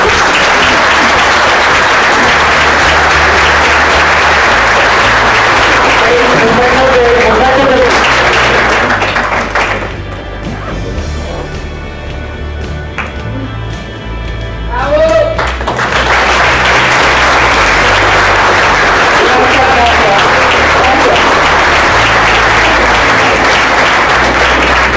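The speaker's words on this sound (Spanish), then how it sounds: "Reciba este caluroso aplauso de su público." An audience gives warm applause at the close of a keynote lecture on thanatology, loud sustained clapping that eases briefly midway and then swells again to full strength.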